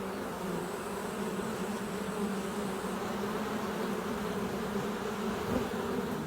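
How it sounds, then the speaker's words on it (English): Dense honeybee colony swarming out of a hollow oak in a forest, a continuous even buzzing drone of many insects that holds steady throughout, fairly loud with no gaps. "Half the colony swarms out of the hole in the oak, starting the search for a newer,"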